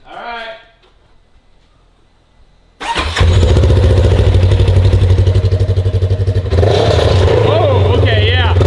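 A motorcycle engine with a new exhaust fires up after a brief voice and near-silence, then revs loudly and continuously, with a deep rumbling exhaust and rising throttle bursts.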